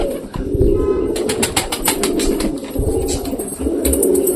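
Pigeons cooing and shuffling about indoors after feeding, with soft wing flutters among the close, continuous murmuring of the flock.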